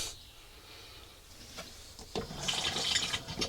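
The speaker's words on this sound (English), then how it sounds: "Flushing perfectly." A Thetford toilet, repaired after a fault, flushes: quiet at first, then a rising rush of water that swells loudly near the end, heard close up with no talking.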